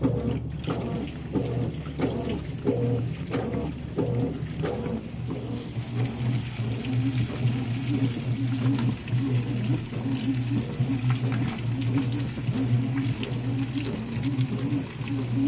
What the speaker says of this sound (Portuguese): A Vantage já vai soltar a água.